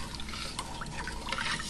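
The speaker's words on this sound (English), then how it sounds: "And I just put in 4 cups of water." Water pours steadily onto a quart of pure cane vanilla sugar in a home kitchen, a short, continuous splashing trickle.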